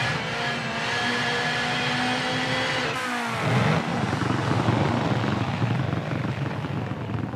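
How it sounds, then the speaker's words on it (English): A rally car engine roars in the WRC 7 racing game, a loud, continuous drone that dips briefly as the car shifts, then climbs again and holds at high revs. "I did turn up the engine audio a bit from the last stage"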